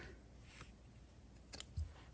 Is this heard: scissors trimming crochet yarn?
yes